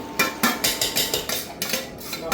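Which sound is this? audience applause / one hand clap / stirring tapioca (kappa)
stirring tapioca (kappa)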